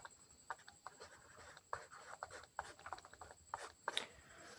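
Pen scratching out a math solution on paper during a Class 10 real numbers lesson, a soft irregular run of close strokes and taps with no talk.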